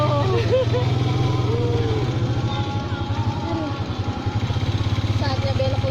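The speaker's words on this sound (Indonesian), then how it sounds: "Beca 3 roda." A motorized three-wheeled becak driving along, its small engine chugging in a fast, steady pulsing rhythm close by, with voices talking over the engine throughout.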